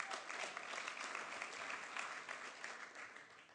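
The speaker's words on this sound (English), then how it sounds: "what another round of applause" Quiet but steady applause from a banquet audience at an awards dinner, many hands clapping in a dense, even patter that fades slightly toward the end.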